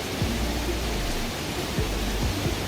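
Bidulginang waterfall in a gorge of columnar basalt, its emerald pool below, roaring as a steady, loud, dense wash of falling water with no breaks.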